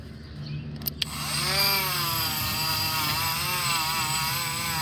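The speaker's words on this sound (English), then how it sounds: "So again, just come in here with the Dremel." A Dremel rotary tool whines at a high, wavering pitch against a corroded metal tube on a Saturn car, starting after a few clicks and grinding steadily up close.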